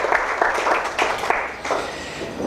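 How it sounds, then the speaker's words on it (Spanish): Church congregation clapping together in praise, a dense, loud burst of many hands with rhythmic surges that fades toward the end. "Haré una ofrenda de palmas al Señor"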